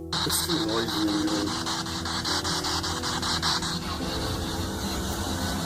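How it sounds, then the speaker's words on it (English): A steady, broad hiss of white noise runs throughout, with faint rhythmic pulsing and voices in the background. "You got a white noise device running."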